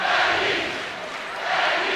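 A roaring crowd fills a basketball arena during a close college game between New Mexico and Utah State, a loud sustained cheer that dips slightly and swells again.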